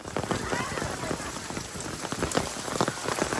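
Heavy rain falls in a Konkan village near Dapoli, a loud continuous patter with dense drops striking nearby surfaces throughout.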